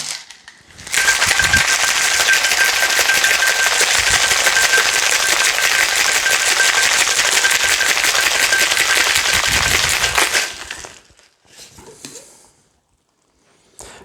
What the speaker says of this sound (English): give it a good hard shake